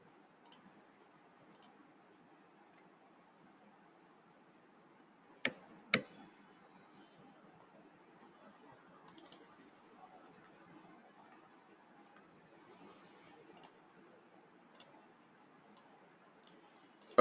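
Sparse taps on a computer keyboard come in scattered short bursts under quiet room hiss, with a pair of louder clacks near the middle.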